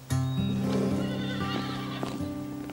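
A horse at a riding stable gives a loud, close whinny that rises and wavers for a couple of seconds, with hooves clip-clopping beneath it and a few sharp hoof knocks, with no talking.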